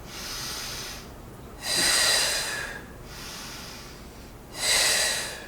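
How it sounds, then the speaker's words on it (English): Deep breaths drawn in and pushed out during yoga sun salutations, two loud airy exhales separated by quieter inhales, close and steady with no talk. "Inhale. Exhale. Inhale. Exhale."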